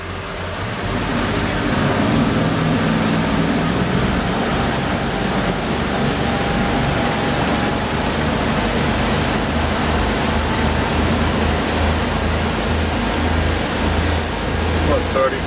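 A 2002 Sea Ray 320 Sundancer cruiser running on plane during a sea trial gives a loud, steady roar of engines and rushing water and wind that holds unbroken for the whole stretch.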